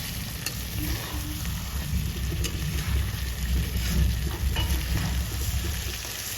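Chicken cooking down as kosha in a pan, with a steady sizzle of frying and intermittent stirring scrapes, continuous and close.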